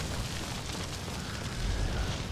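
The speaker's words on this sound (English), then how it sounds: "I hear explosions." Explosions in the video game Hunt: Showdown, a dull, continuous booming rumble at a distance, swelling slightly louder toward the end with no talk over it.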